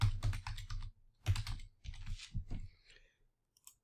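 A name being typed on a computer keyboard, with quick bursts of close, crisp key clicks separated by short pauses, fading out near the end.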